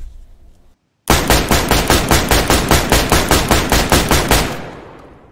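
A rifle in DayZ fires a rapid full-auto burst of about fifteen evenly spaced, loud, close shots, ending in a fading echo, with a short quiet gap before the burst and no talk.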